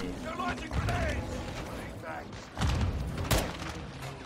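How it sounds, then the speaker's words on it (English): Grenade launchers fire in a Call of Duty: Modern Warfare 2 campaign battle at a tree line, with two heavy booming blasts about two seconds apart over battle noise and shouting voices. "They're launching grenades!"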